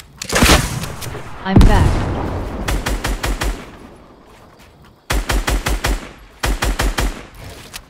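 Fortnite gunfire in loud rapid bursts of automatic shots, several clusters separated by short pauses, with a player briefly talking.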